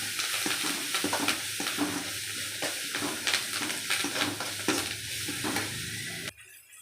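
Curry leaves and onions fry in a pan with a steady, close crackling sizzle. Repeated stirring scrapes run through it until the sound cuts off abruptly near the end.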